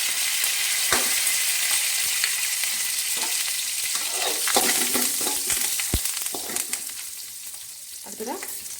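Turmeric and spices fry in hot oil with curry leaves and green chilli, sizzling steadily up close while a spoon stirs and scrapes the pan in occasional clinks.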